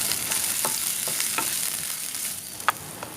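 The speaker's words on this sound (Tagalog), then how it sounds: "we're going to stir fry this until it becomes fragrant" Ginger stir-fries in a pan for Filipino beef soup with a steady, close sizzle. Occasional scrapes and clinks of the utensil stir through it.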